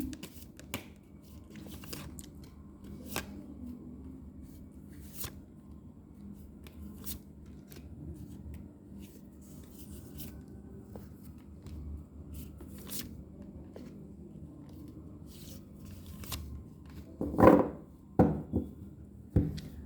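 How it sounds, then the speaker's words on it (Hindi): Tarot cards are shuffled by hand in a quiet room, with soft papery rustles and light flicks over a low steady hum, then a brief louder flurry of riffling near the end. "अब मैं इन सभी कार्ड्स को क्लेरिफाई कर लेती हूँ, थोड़ा सा शफल कर लेते हैं"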